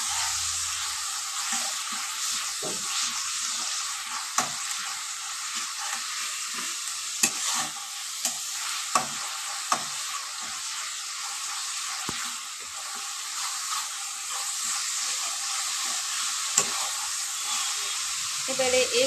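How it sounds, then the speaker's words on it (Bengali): Chopped onion sizzling in hot oil with ginger-garlic paste for a Bengali yogurt chicken curry, a continuous bright hiss broken by frequent scraping clicks of a spatula stirring the pan. "আদা রসুনের পেস্টের সঙ্গে পেঁয়াজটার সঙ্গে ভালো করে মিশিয়ে নিতে হবে।"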